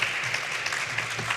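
An audience at the TransVision Madrid 2025 longevity summit claps for the audiovisual crew, a dense, even patter of many hands filling the room without pause.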